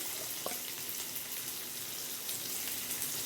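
Eggs fry in a pan for an egg chilli dish. A dense, constant sizzle holds close and even from start to finish, with faint spatters. There is no speech.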